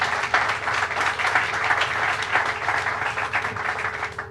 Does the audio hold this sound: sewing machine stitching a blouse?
no